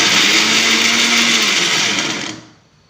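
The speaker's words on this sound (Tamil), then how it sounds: "கொஞ்சம் கருவேப்பிலை போட்டு நுணுக்கலாம்." A mixer grinder grinding spices and curry leaves whirs loudly at high speed for a couple of seconds, then winds down and stops.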